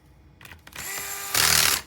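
A small power screwdriver drives a screw into a Dell Latitude 7640 laptop during a motherboard replacement, giving a short close whirring buzz that rises to a louder burst near the end, with no talking.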